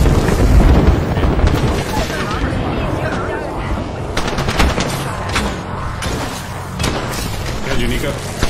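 Rapid bursts of gunfire and booming explosions from an Apex Legends match, including an airstrike, roar continuously and loudly in the foreground.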